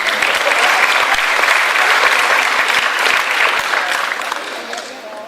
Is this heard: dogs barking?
no